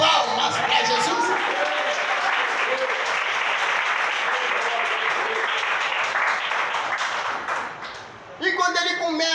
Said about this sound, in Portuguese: A igreja bate palmas para Jesus.